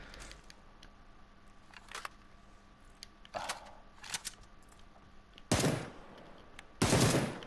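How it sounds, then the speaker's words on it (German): Gunfire in the battle royale game PUBG: a few faint, distant single shots, then two loud, close sharp bursts near the end, with quiet background ambience between them. "Nicht schießen. Die anderen hören das ja."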